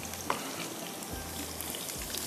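Garlic fries in hot oil with a soft, continuous crackling sizzle, quiet and even throughout, with a couple of faint low clinks from the pan.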